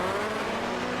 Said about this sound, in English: We've got a car coming at us.